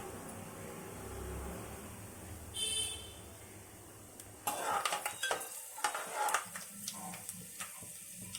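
A handful of peanuts dropped into hot oil with cumin for aloo samosa filling, a low background fry that bursts into crackling sizzle with sharp spattering pops as they hit the pan.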